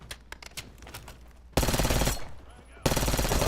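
Automatic gunfire in a Verdansk battle game: two sustained machine-gun bursts, loud and close, follow a stretch of scattered sharper single shots.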